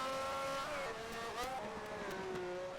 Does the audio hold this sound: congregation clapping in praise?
no